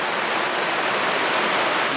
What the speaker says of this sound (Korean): 와 빗소리 죽인다